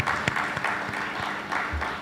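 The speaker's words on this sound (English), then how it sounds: "Let's give them a round of applause." Audience applause at a Caribbean tax justice event, a steady wash of many hands clapping that holds evenly for about two seconds at moderate, room-filling volume.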